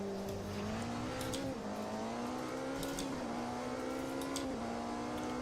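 A hypercar's engine droning steadily in a racing video game, a smooth high tonal whine that shifts gently in pitch through gear changes, loud and continuous with no voices.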